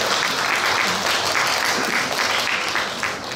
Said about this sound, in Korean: 다시 한번 박수를